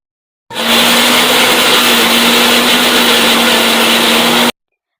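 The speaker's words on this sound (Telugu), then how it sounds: "వీటిలన్నింటిని కూడా మెత్తగా గ్రైండ్ చేసేసుకోవాలి మిక్సీలో" A mixer grinder whirs loudly and steadily for about four seconds, pureeing coriander, red chilli powder and ginger-garlic paste for a biryani masala, starting and stopping abruptly with no talk.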